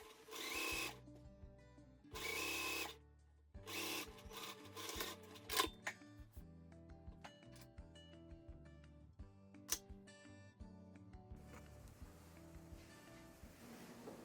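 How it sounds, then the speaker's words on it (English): Home sewing machine stitching a seam along a linen pants panel, two short loud whirring bursts followed by quieter intermittent running and clicking, close and with no talk. "Then I'm going to go to the machine and I'm going to stitch this down"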